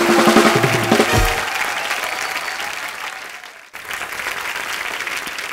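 Loud, full crowd applause welcomes the singers, starting under a brief musical sting, then continuing as a strong, steady roar of clapping after a momentary cut.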